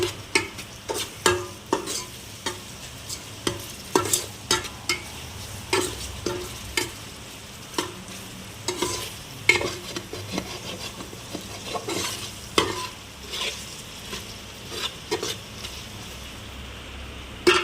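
Ginger garlic paste stirred in hot oil for a chicken curry, with steady, rhythmic scraping strokes of a spoon against the pan over a continuous soft sizzle.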